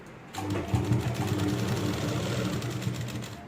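An electric sewing machine runs steadily and close by while stitching a Rajputi lehenga, its continuous whirring hum holding for several seconds without talk.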